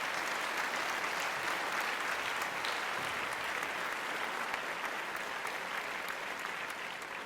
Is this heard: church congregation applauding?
yes